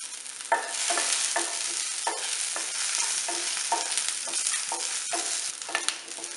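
Small onions and tamarind sauté in hot oil in a kadai for small-onion chutney. A steady sizzle runs underneath while a spoon scrapes and stirs in a regular rhythm, about one stroke every half second.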